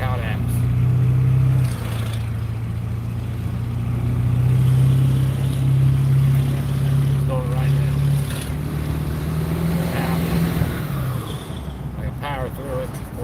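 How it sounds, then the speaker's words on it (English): A Ford 7.3 diesel engine running with a misfire-like miss, giving a steady, loud low drone with slight unevenness that holds throughout, while faint voices sit underneath. "it acts and sounds just as if it was a gasoline car missing"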